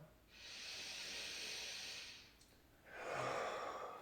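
Two long, deep breaths during a yoga halfway lift, each an airy, hissing exhale heard close and alone, separated by a brief quiet pause.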